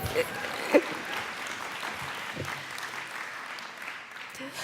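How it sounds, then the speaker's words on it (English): An audience at a conference claps, making a soft, steady wash of applause heard from a distance, with a speaker's voice briefly cutting through near the start. "Yes, you can clap for that"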